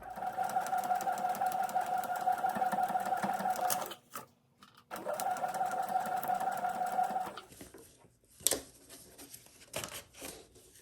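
A sewing machine runs in two long steady bursts stitching a quilt block piece onto plain white muslin background fabric, with a pause between and a few brief clicks and handling noises at the end; no one speaks.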